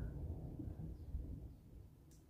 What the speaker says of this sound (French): Oula, je sais pas si vous allez entendre, mais nous, il y a de l'orage.